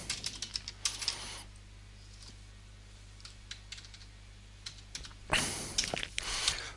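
Fingers typing on a computer keyboard in quiet bursts: a rapid cluster of keystrokes, a long near-silent pause with a few scattered taps, then another dense flurry of clicks near the end.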